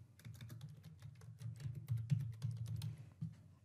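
Rapid, steady clicking of keys on a computer keyboard, close and moderately quiet, a continuous run of key presses with no speech.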